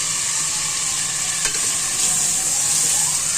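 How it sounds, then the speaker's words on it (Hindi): Garlic-ginger paste frying with beef in a pan for spinach and beef curry, a steady close sizzle with stirring scrapes throughout, one brief clack midway. "और अब हम इसमें डालेंगे लहसुन अदरक का पेस्ट।"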